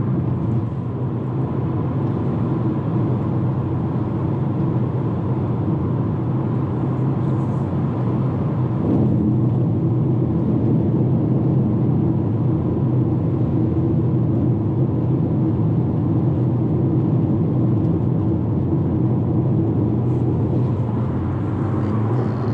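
A 2019 Toyota RAV4 accelerating on a highway, heard from inside the cabin as a steady low engine and road rumble with broadband tire and wind noise, continuous and fairly loud, with no talking.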